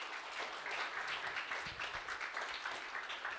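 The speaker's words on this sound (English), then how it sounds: "A big round of applause for Ganla." An audience gives a big round of applause for the speaker Ganla, steady, moderately loud clapping from many hands with a faint soft thump in the middle.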